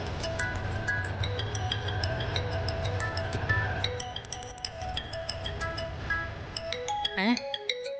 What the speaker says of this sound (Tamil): ஸ்னேகா இவ எதுக்கு இப்ப கூப்பிடுறா?